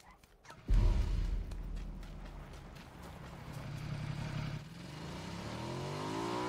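Motorbike engine in the PUBG video game revving up with a sudden loud onset, then holding a steady droning rumble that shifts pitch as it drives on, close and continuous.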